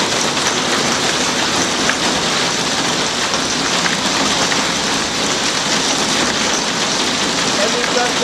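Hailstones pelt a glassed-in porch during a Phoenix storm, making a dense, steady roar of hard rattling impacts that never lets up, loud and close throughout.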